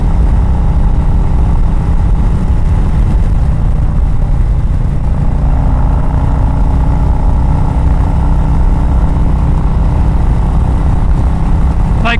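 Harley-Davidson motorcycle being ridden, probably the Road King Special or Iron 883, giving a loud, steady engine drone and road roar throughout, with a faint rise in pitch toward the end.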